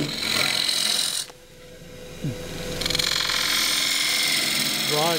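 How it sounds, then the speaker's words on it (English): A spindle gouge cuts a small green wood bowl spinning on a lathe, giving a steady scraping, hissing cut that drops out briefly and then returns louder, with a little low talk mixed in. "just using the wing of the tool, tools rolled over about 45 degrees, and hands on the rest and just squeezing the tool in."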